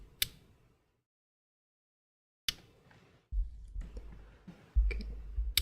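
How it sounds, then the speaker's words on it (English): Sharp computer mouse clicks sound singly and in short bursts with silent gaps between them, close to the microphone, followed by low thumping handling noise near the end. "mouse clicking noise is through the roofs today."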